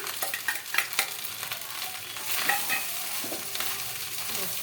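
Fried rice with shrimp stir-fried in a pan: a steady sizzle with scraping spatula strokes and clinks against the metal, close up, with no talking.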